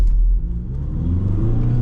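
A diesel manual car pulls away hard from a standstill, a loud low engine drone rising steadily in pitch as it accelerates, close and with no talk.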